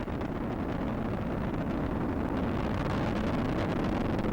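Space Shuttle Discovery's three main engines during launch ascent from Kennedy Space Center, a continuous deep broadband roar with a rumbling low end that holds steady and loud throughout, no voices.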